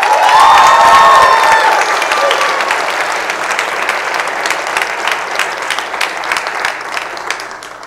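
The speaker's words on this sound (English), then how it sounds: "please give those performers another round of applause" A school audience at a high school Black History program applauds the performers. Loud clapping with cheers and shouts opens it, then the applause tapers off into scattered claps.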